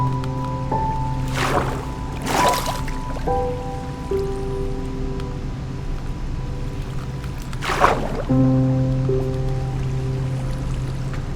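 Steady rushing water from a waterfall in Minecraft, a continuous flowing wash with a few brief louder whooshes and sustained game tones underneath, with no talking.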